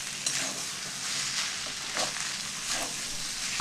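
Banana flower curry with green chilies sizzles steadily in a pan while a spoon stirs it, producing soft scraping strokes every half second or so over the continuous frying hiss, close and fairly quiet.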